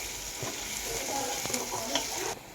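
Food frying in a pan as it is stirred and mixed while making an egg fry, with a steady sizzle and occasional scrapes and clinks throughout.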